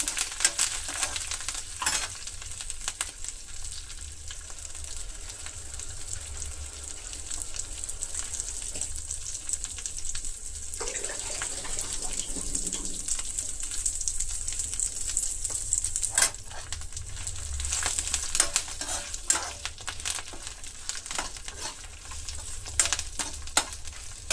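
Washed, dried curry leaves fry in a pan with a steady, crackling sizzle and frequent scrapes of a stirring spoon throughout, close and fairly quiet, with no speech.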